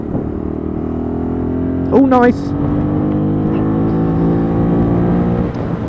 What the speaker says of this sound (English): Bullit Hero 50, customer's bike, all running